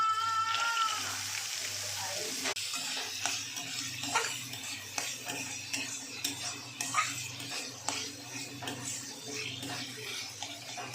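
Soaked chana dal frying with cabbage and tomato while being stirred, a soft sizzle under repeated utensil clinks and scrapes against the pan, quiet and close, with some voice in the background.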